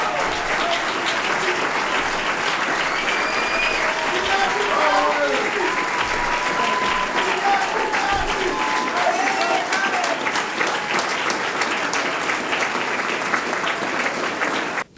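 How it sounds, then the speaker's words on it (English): Audience applauding and cheering for Bobby Seale at a Black Panther Party 50th anniversary event, a dense, steady wash of clapping from a large crowd that runs loud and unbroken for the whole stretch, with some voices mixed in. "Give Bobby Seale a round of applause."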